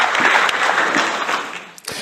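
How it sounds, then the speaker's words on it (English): A showcase audience applauds in a dense burst of clapping that fades toward the end, then picks up again briefly. "So there we go, our cast of thousands and thousands, giving you that round of applause."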